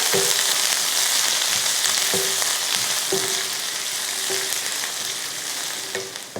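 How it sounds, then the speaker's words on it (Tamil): Onion and curry leaves sautéing in hot oil for spicy chicken rice, a steady close sizzle with periodic scraping stirs of a spoon or spatula roughly every second. "கொஞ்சம் கருவேப்பிலை, வெங்காயத்தை வதக்கிக்கலாம்"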